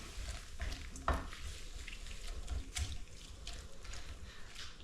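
Water runs into a kitchen sink or bowl while prawn tacos are prepared. A faint, steady rush continues throughout with a few small splashes.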